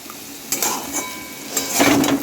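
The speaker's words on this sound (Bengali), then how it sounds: "এখানে আলু ভাজাটা পুরো মচমচা করে ভাজা করবো।" Potatoes fry in a pan for crispy aloo bhaja while a utensil scrapes and stirs, giving several clattering strokes over a soft sizzle, close and fairly loud.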